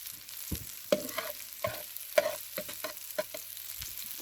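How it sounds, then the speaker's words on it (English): Mullet sizzles over a fire pit in a sporadic run of crackles and pops with short hissing bursts between quieter gaps, close and moderately loud, with no talking. "perfect fire pit for cooking up that catch of the day"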